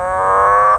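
A male green and golden bell frog gives a single loud, droning, harmonic call lasting under a second, close up, that cuts off abruptly.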